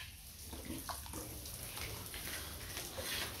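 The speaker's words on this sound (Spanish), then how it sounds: "Primero vamos a mojar todas las ventanas." A spray of water wets house windows before washing, a steady hissing wash with faint clatters underneath, fairly close and continuous.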